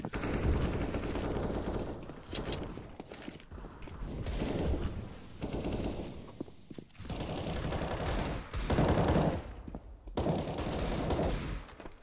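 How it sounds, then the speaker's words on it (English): Dense video-game gunfire from a CS:GO match on the Cache map, bursts of automatic rifle fire and shots chaining almost continuously, loud and close, with no talk over it. "Angel finds the opening frag on Freddy B"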